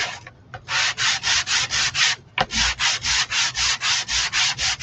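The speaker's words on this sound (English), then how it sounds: "I'm going to give it a pretty good sanding" A wooden mason jar cutout is sanded by hand in quick, even back-and-forth strokes, each a loud, raspy scrape. About twenty strokes come in a steady rhythm, broken by one short pause and a dull knock, heard close up.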